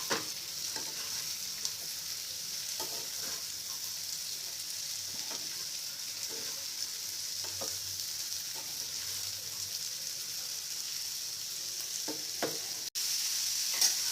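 Kankoda (spiny gourd) sabzi stirred and fried in a pan, a steady soft sizzle with faint scraping stir strokes throughout, close and moderate, no talking.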